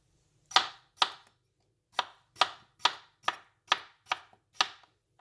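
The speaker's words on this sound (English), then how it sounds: "Yes, we will cut this part like this." Knife chopping food into cubes on a cutting board, nine sharp distinct chops in a fairly steady rhythm with a short pause after the second, close and clear, no talking.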